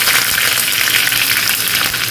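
Curry leaves sizzle in hot oil for a mango pulissery, a loud, close, continuous crackling hiss with no talk.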